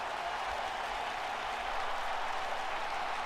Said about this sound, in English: Crowd still booing here.